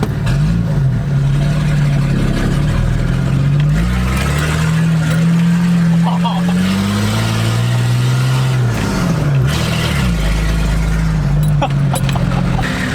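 A straight-piped, naturally aspirated Nissan Patrol with a TD42 diesel engine drives along, its loud, gruff exhaust rising and falling through gear changes, heard from close inside the vehicle with some talk underneath.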